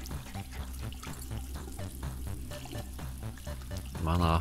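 In the Among Us video game, a shower runs with a steady watery hiss. It is moderately loud, and voices talk over it throughout.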